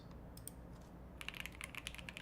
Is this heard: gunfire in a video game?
no